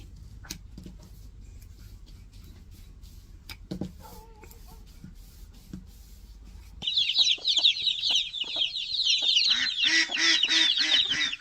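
Chickens and ducks on a grassy farm cluck and squawk in a dense, continuous chorus that starts abruptly partway through and stays loud to the end, preceded by quieter scattered clicks and soft background sounds.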